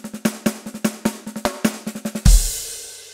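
A drum fill of quick, evenly spaced snare and tom strikes, some accented, rolls forward and lands on a loud crash cymbal that rings out.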